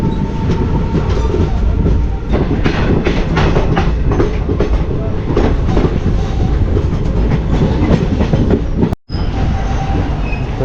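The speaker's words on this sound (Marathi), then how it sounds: "आपली ट्रेन बघा एट फॉर्टी सिक्सला आडवलीवरून निघाली" A passenger train rolls along the Konkan line after leaving Adavali toward Rajapur Road, heard from on board as a loud, steady rumble with repeated clickety-clack wheel beats and a brief dropout near the end.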